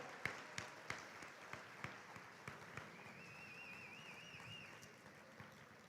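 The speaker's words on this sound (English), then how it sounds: "give our rock stars here one more round of applause for their amazing accomplishments this year" Faint applause for high school students at an annual scholars' breakfast, with a few distinct, sharp claps standing out over softer scattered clapping and a thin whistle-like tone partway through, all quiet and fading gradually.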